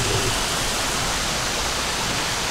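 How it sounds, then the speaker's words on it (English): Waterfall right outside an apartment pours in a steady, dense hiss like heavy rain, close and continuous with no talking. "sometimes when I'm inside, I think it's raining, but it's simply just a waterfall"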